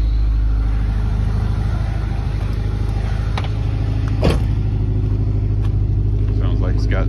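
2008 Ford 5.4 3V V8 with a modified exhaust idling loudly up close, a steady deep droning rumble with faint clicks, and a voice talking over it.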